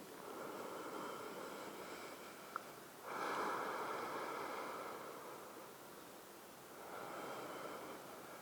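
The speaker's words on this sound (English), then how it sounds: "Enjoying a couple more deep breaths" Deep, slow breathing in a yoga class, soft airy breaths rising and falling in long waves over steady background hiss, faint and without any talking.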